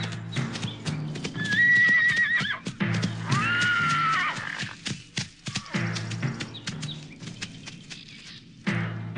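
Several horses whinny loudly in two long calls while hooves clop in uneven bursts close by, with scattered thuds and pauses between, no speech over them.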